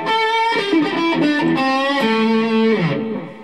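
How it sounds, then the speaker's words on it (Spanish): An electric guitar fitted with a Dr. Parts pickup plays through distortion, ringing out a few sustained, harmonically rich notes that hold and then slide lower before fading. No voice accompanies it. "Si nosotros utilizamos una distorsión,"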